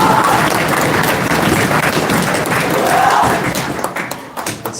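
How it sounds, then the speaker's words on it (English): Applause from the crowd at a youth sports team awards banquet, a steady wash of clapping that holds for several seconds before thinning out. "So big round of applause to all the players"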